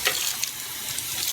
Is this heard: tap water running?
yes